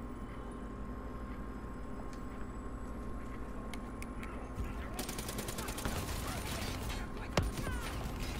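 Gunfire in Call of Duty Black Ops 3 against zombie robots: the first half is a quiet background hum, then rapid bursts of shots crackle in from about five seconds, with one sharp louder hit near the end.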